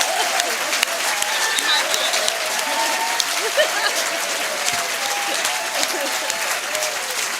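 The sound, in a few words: audience applause voting for debate team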